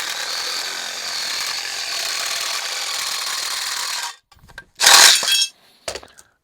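DeWalt power shears cut through aluminum sheet metal in a steady, harsh mechanical buzz lasting about four seconds, followed by a near silence and then short metallic clinks and rattles.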